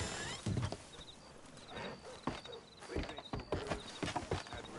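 Horse-drawn ride in Red Dead Redemption 2, hooves clip-clopping in a steady walking rhythm, moderately close and fairly quiet, with creaks and light clanks from the cart.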